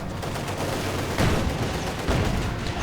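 Steady crackle of gunfire and blasts during a World War II real-time strategy battle with Panzer VI and T-34 tanks, carrying two louder bursts that fit Panzerfaust launches, with no talk over it.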